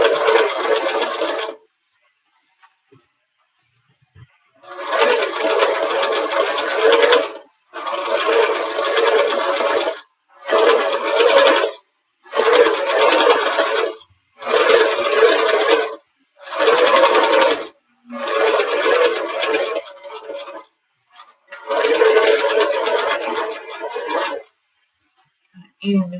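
Sewing machine stitching patchwork pillowcase fabric, running in repeated bursts of a few seconds each with short pauses between, loud and close.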